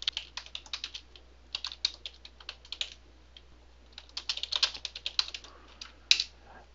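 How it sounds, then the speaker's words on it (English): Typing on a computer keyboard, with irregular bursts of quick key clicks and short pauses between runs, close and clear, with no talking. "Let's type a text,"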